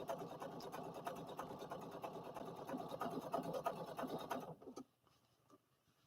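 A sewing machine stitches with a fast, even mechanical rattle, fairly quiet and close, then stops abruptly, leaving near silence.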